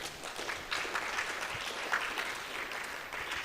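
An audience claps at a TEDx talk in a steady, dense wash of applause that holds for the whole stretch at moderate level, with no voices over it.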